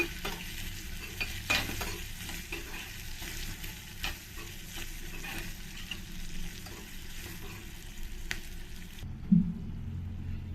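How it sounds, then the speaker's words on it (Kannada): Onion and curry leaves fry in a hot tempering for sambar, a steady close sizzle broken by repeated stirring scrapes, ending abruptly with a soft clunk. "ಸ್ವಲ್ಪ ಇದನ್ನೆಲ್ಲ ಚೆನ್ನಾಗಿ ಫ್ರೈ ಮಾಡ್ಕೊಳ್ಳೋಣ"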